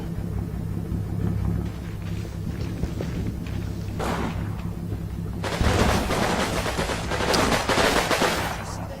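Submachine gun fire in the war game Combat Mission Final Blitzkrieg, on a December morning battlefield, comes as loud rattling bursts over a low rumble, growing denser and heavier toward the end.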